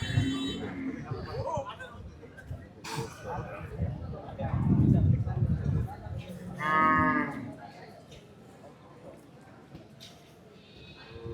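Cattle at the Joymontop cattle market in Singair, Manikganj, give a few low moos, one long call standing out, amid crowd chatter and nearby talking.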